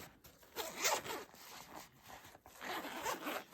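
A zipper on a budget tech pouch, the kind carried for pens, USB sticks and a ruler, is pulled open in two quick raspy strokes, close and fairly loud, with no talking.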